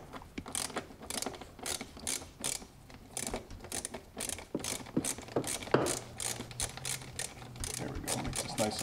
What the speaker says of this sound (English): I'm going to loosen this nut back here. I don't know if you guys can see that with this 10 millimeter socket.